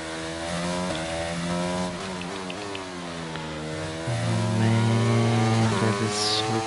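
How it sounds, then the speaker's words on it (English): Race car engine in the F1 22 video game at the Austria Grand Prix, whining through gear changes with rising and falling pitch, loud and continuous, with no voices. "The sound of the car is so different."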